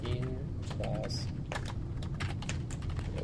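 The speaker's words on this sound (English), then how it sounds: "No, I'm not lagging. I'm typing ahead." Rapid typing on a computer keyboard, a steady run of close, crisp key clicks with uneven rhythm and a few brief tones in the background.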